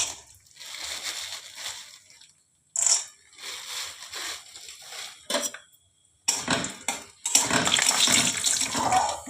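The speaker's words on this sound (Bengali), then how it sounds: "বন্ধুরা, আমি আগে বাদামটা ভেজে নেব।" Peanuts are fried in a pan, giving bursts of crackling and scraping stirs broken by short quiet gaps, close and fairly faint.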